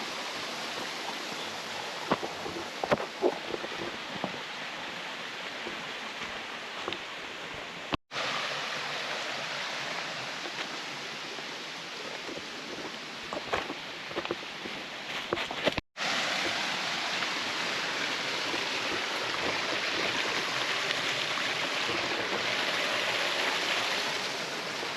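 Small waterfalls and a flowing stream in an overgrown stretch of Hawaiian forest give a steady, hissing rush of water that continues throughout, broken by two brief cuts.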